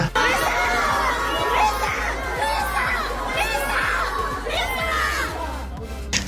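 A large, loud crowd roars and cheers continuously, with high excited shouts and screams rising and falling over a constant din.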